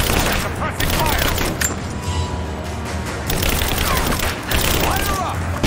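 Heavy, sustained gunfire fills a combat firefight in Rise of the Tomb Raider on Xbox One, with dense, loud bursts and booms rolling continuously while voices shout over the shooting.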